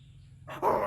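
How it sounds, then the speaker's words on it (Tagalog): A dog barks suddenly in a residential neighborhood, one or two loud close yelps bursting out after a quiet, low background hum. "Ay, takbo. May aso!"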